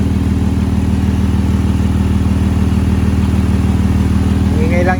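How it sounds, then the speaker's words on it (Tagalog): A 2010 Nissan Murano engine runs at a steady idle with a leaking, noisy exhaust, giving a continuous rhythmic pulsing drone close by. "Ingay lang yung tambutso. May tagas."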